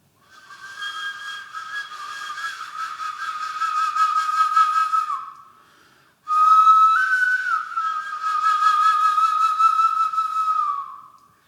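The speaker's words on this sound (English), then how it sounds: "And so you can hear that in the sound of the kōauau." A kōauau, the Māori taonga puoro flute, plays two long breathy phrases of sustained, wavering notes with gentle slides, separated by a brief pause, close and fairly loud with nothing else audible.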